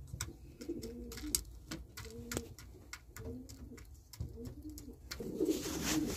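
Racing pigeons in a loft cooing in repeated low throaty phrases, close and moderately loud, with faint chirps and clicks around them and a rustle near the end.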